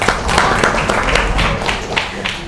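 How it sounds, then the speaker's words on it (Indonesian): A classroom of students claps for a presenting group, a loud burst of scattered, uneven hand claps with a few sharp individual slaps standing out, close by and without talk over it. "Sekali lagi tepuk tangan dong."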